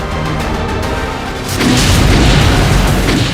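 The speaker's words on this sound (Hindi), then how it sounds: "गजा में धमाकों का ये वीडियो इजराइल ने बनाया है" Explosions in Gaza: a dense, rumbling roar of booms and blasts that swells louder midway, continuous and heavy with no voices.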